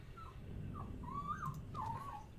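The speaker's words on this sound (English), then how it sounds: "Stop whinging, mate. He's a very whingy dog." A dog whining in Dragon Age: Origins, several short high whimpers and rising whines in a row over a low rumbling background, fairly faint, no talk.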